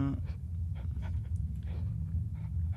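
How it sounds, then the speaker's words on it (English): A dog pants in the horror video game Penumbra Overture, quick rhythmic breaths close by and faint, repeating steadily for a few seconds without talk. "Oh no, I hear a dog."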